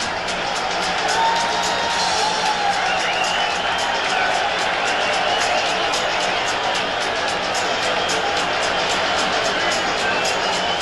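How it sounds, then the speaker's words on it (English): A packed arena crowd roars and cheers continuously around the boxing ring before Roberto Duran fights Sugar Ray Leonard in 1980, a dense, loud wall of noise with whistles and scattered claps and no break. "Listen to this crowd"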